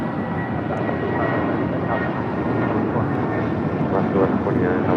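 An airliner takes off from runway 25 Right at Los Angeles International Airport, a steady broadband jet roar and rumble holding throughout, with some talk mixed in.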